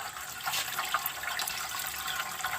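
Cold water runs steadily from a tap into a sink while Kulfa saag leaves are prepared for washing in a home kitchen, a continuous, fairly faint hiss of flowing water with no talk over it.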